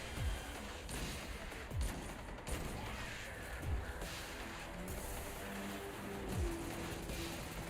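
Rapid bursts of gunfire in the Destiny 2 video game, repeated sharp shots over a busy, continuous battle mix with game music, no talk.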